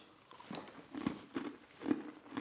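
Close, crisp crunching bites of a homemade ginger nut biscuit, a few loud snaps spaced about half a second apart, with no talking.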